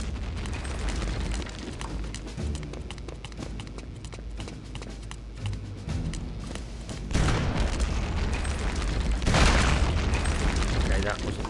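Grenade blasts boom in the shooter game Return to Castle Wolfenstein, a heavy burst around the middle and another near the end, amid constant in-game noise and a person talking.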